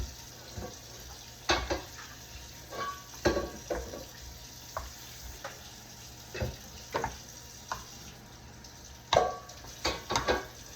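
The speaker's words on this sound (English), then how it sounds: "So we're going to mix this really well." A thick baked beans mixture is stirred in a bowl, making wet, squelchy scrapes and soft clinks in an irregular rhythm, close by and fairly quiet.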